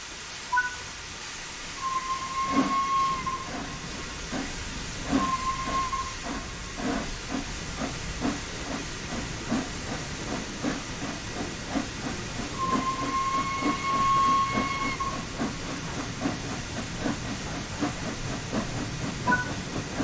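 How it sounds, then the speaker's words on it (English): The Flying Scotsman steam locomotive in Train Sim World 4 hisses steadily as the regulator opens, with a rhythmic chuffing building up and short tonal whistle-like squeals now and then, close and continuous, with no voices. "Slowly open the regulator to apply some power."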